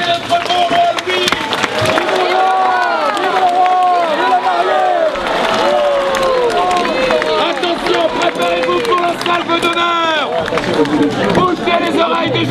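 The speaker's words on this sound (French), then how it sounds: "Encore une fois, acclamez notre beau roi Louis." A crowd at a medieval festival in Saint-Macaire cheers for a costumed king, with loud continuous shouting, whooping voices and scattered clapping that fill the whole stretch as a dense babble.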